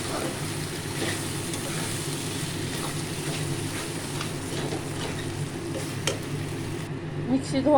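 Chhana (paneer) frying in a pan, a steady soft sizzle that runs through the whole stretch at moderate loudness with a few faint clinks, no one speaking.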